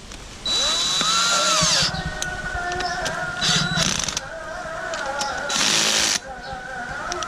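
A power tool tightens nuts at a set torque during brake caliper work, whirring in several short bursts of rising and falling motor whine with brief pauses between.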